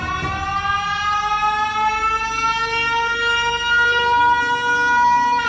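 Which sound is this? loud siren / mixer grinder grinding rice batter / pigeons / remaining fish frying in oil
loud siren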